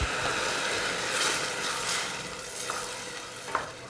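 Water poured into a pan of sizzling tomatoes while cooking Chettinad white kurma, a steady hissing sizzle with stirring and a few small clinks, no talk.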